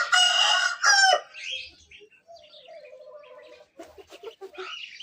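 A chicken squawks loudly at the start, then softer clucks and chirpy calls follow in short bursts, close by and with no talking.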